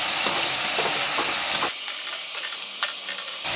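Spices fry in a pan for masala kodubale, a continuous bright sizzle and hiss with soft stirring scrapes, close and steady, dropping briefly then resuming.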